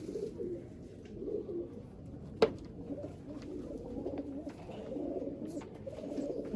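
Old Sialkoti pigeons coo softly and steadily in a loft in Jammu, a low murmuring bed of calls with one brief sharper sound partway through.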